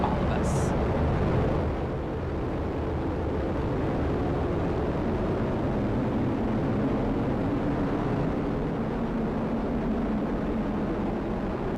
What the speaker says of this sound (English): And liftoff of Starliner and Atlas V, carrying 2 American heroes, drawing a line to the stars for all of us